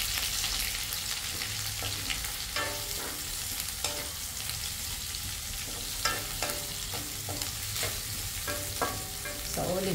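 Vegetables and sardines sizzle in olive oil in a pan, a steady close frying crackle broken by occasional scraping stirs.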